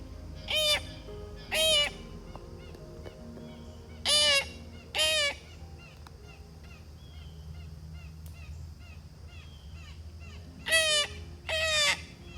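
A series of short, rising whistled bird-like calls in pairs, repeated three times with pauses between, a man imitating a bird.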